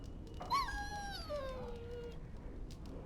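A dog in the Dragon Age Origins video game lets out a single drawn-out whine, rising then sliding downward over about two seconds, faint over a low background hum.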